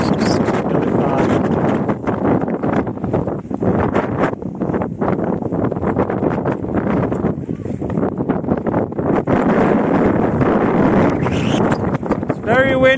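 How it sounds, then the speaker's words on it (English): Strong wind buffets the microphone on Curbar Edge, a rocky gritstone escarpment. A heavy, continuous rumble and roar of gusts lasts throughout, with voices talking partly under it. "It's very windy."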